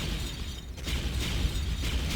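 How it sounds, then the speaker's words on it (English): Continuous rumbling booms and crackling blasts, dense and loud, like repeated explosions in a chaotic battle, with no voices; explosions in a Star Wars video game battle, knocking down trees. "Explosions everywhere, you know, it's taking down trees."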